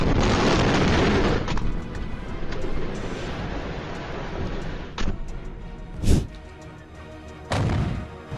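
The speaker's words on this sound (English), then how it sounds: "An explosion in a grain warehouse at the Derailment port in Turkey." Explosion at a grain warehouse in a Turkish port: a loud, roaring blast fades into rumbling debris, followed by several separate sharp bangs and thuds at a distance.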